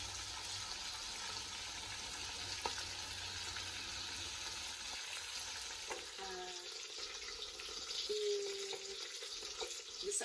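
Steady sizzling and crackling of fish frying in hot oil, close and continuous, with a few soft clinks of a utensil partway through.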